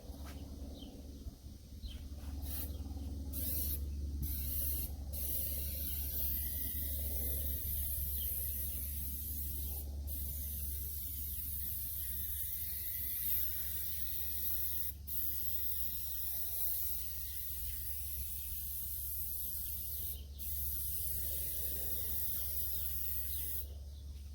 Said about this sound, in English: after shaking this thing for about a minute, I'm supposed to be able to spray it